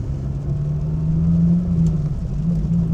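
A motorcycle passes nearby on the road in a steady, moderately loud engine drone that holds for a few seconds, heard from inside a parked car.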